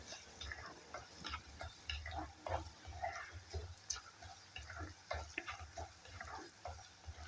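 Fish curry masala fries in coconut oil, giving a faint, irregular crackle with soft stirring scrapes and ticks spread through the pan.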